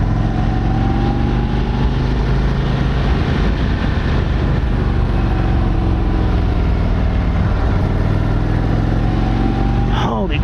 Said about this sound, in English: And very quiet. It's a very quiet engine. Or stock exhaust, extremely quiet.